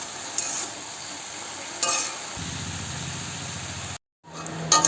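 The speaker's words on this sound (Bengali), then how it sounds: "আলু আর বরবটিগুলো ভেজে নেবো" Potatoes and yardlong beans frying in a pan, a soft sizzle with occasional stirring clinks, growing into a denser crackle before a brief cut and a return of the sizzle.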